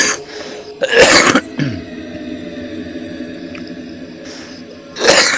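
A man with a cold coughs and clears his throat in a few harsh bursts, close and loud, separated by quieter gaps with faint background hum.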